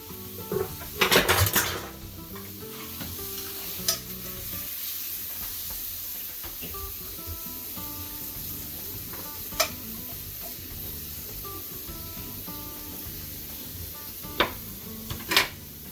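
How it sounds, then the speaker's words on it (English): Spinach and mushrooms in a sizzling pan, stirred with a utensil: a few loud clattering knocks of metal on the pan over a continuous frying hiss, with occasional sharp clicks later on. "we're gonna add our spinach and our mushrooms"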